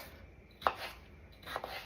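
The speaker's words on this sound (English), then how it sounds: "we're going to dice them up" A knife dices peeled potatoes on a cutting board in a home kitchen, making two sharp chops about a second apart. The chops are fairly close, and the gap between them is quiet.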